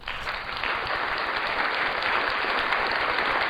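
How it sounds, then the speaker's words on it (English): A live audience breaks into steady, sustained applause for a performer's wife, the dense clapping swelling after a brief start and holding loud and even throughout with no talking over it. "Round of applause for my beautiful wife."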